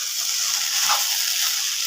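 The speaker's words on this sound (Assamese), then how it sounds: "এয়া চাওক আলু ভাজিছোঁ" Potatoes fry in a pan, giving a steady, close hiss of sizzling oil that holds even throughout, with no voices over it.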